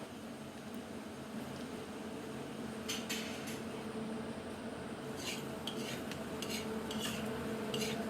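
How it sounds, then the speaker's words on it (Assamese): Weaver ant eggs and beaten hen's eggs fry in a pan with a soft, steady sizzle, while a spatula scrapes and stirs in short bursts of clinks and scratches. "এতিয়া অকণমান সময় এনেদৰে আমি ভাজি থাকিব লাগিব।"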